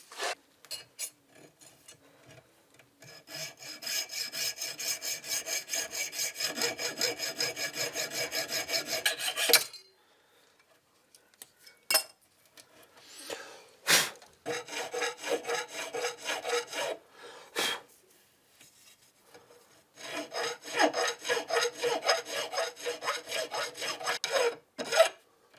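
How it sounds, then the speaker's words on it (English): A hand file rasps back and forth over a metal edge of a Boxford lathe part in close, rhythmic bursts of strokes, separated by short pauses and a few sharp knocks, with no talking. "I can file that down now, that edge."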